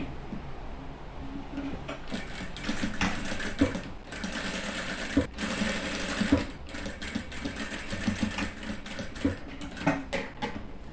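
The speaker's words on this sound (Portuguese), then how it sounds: "nós vamos passar uma costurinha aqui, ó, bem na beiradinha desse encontro dessas duas costuras aqui" Sewing machine running steadily as it stitches along the edge of a dish towel's border seam, a loud continuous mechanical whir with brief pauses and restarts, no talking.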